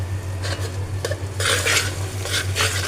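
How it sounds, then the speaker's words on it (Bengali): Cardamom, cinnamon and cloves being stirred into sizzling onions in a pan for khichuri, with a utensil scraping and clinking against the metal over a steady frying hiss, growing louder midway. "পেঁয়াজের সাথে একটু ভালোভাবে মিশিয়ে নেব।"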